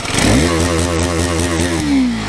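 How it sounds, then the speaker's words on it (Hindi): A 2022 KTM RC390 motorcycle's exhaust note rises through a rapid, pulsing rev that climbs sharply and then eases off. It is loud and close, heard alone without talk. "चलिए आपको एग्जॉस्ट नोट सुनाते हैं इसका कैसा है"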